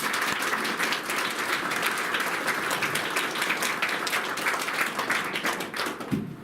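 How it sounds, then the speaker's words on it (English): A crowd applauds steadily, dense clapping sustained throughout before tapering off at the very end. "please join me in giving a please clap for Andrew Cooper."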